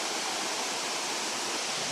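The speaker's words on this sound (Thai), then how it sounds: "น้ำตกเอราวัณชั้นที่3ผาน้ำตกชั้นนี้เขามีชื่อว่าผาน้ำตก" Water pours down the third tier of Erawan waterfall in a dense, steady, close roar of rushing flow that fills the whole moment without pause or voices.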